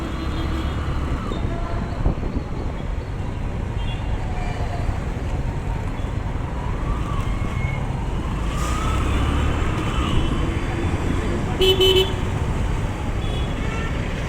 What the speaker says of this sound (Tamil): இப்போது பார்த்தீங்கன்னா அந்த பக்கம் ஃபுல்லாகவே டிராஃபிக்காக தான் இருக்குது